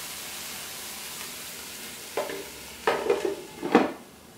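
Mushrooms frying in a pan for Cajun pasta, with a faint sizzle under three short bursts of stirring and scraping in the second half.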